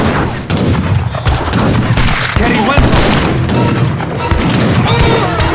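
Dense battle noise from the strategy video game Age of Empires III, with booming cannon shots and crackling musket volleys overlapping continuously, loud and close, with voices talking over the fighting.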